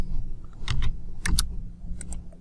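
Someone types on a computer keyboard during drafting work: a few bursts of sharp key clicks, uneven in rhythm, close and distinct against a low room hum.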